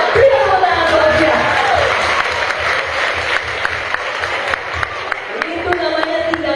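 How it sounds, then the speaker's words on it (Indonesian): Church audience at a Christmas revival service in Pangkalan Brandan claps together in sustained applause, loud and close, with crowd noise and a voice rising over the clapping. "Berikan tepuk tangan buat dia."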